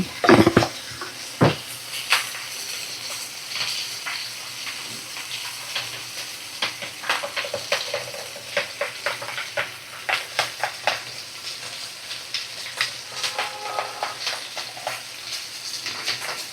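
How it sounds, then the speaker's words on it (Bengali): Spices being whisked into sour yogurt for a pomfret fish dish with black mustard paste: a series of rhythmic clinking, scraping strokes against a bowl, close and fairly quiet, with a few sharper knocks at the start. "টক দইয়ের সাথে সমস্ত মশলা ভালো করে আমি ফেটিয়ে নিলাম"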